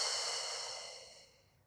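A slow, breathy exhale during a relaxing Pilates stretch, close and soft, fading steadily over under two seconds with no talking.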